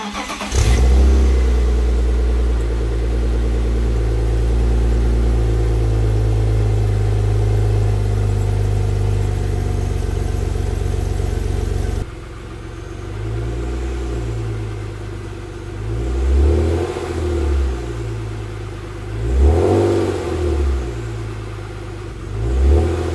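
A BMW E36 328 with a cheap eBay catback exhaust idles with a deep, steady drone, then settles lower before three rising and falling revs swell and fade, close and loud with no talking.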